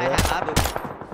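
PUBG gunfire: two sharp, close shots about a third of a second apart, with a short, busy rattle between them.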